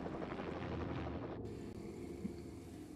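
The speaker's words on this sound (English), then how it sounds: "Is another helicopter gonna shoot us down?" A helicopter in the Shadow of the Tomb Raider video game gives a steady rotor rumble with a low, continuous whirring that holds throughout at moderate loudness.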